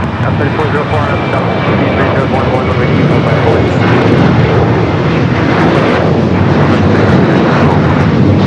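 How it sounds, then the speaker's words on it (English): An Alaska Airlines Boeing 737-900ER takes off at LAX, its jet engines producing a loud, sustained broadband roar heard from nearby, with a voice talking over it. "Next takeoff, Alaska Flight 437 heading to Puerto Vallarta, 737 at 900 ER."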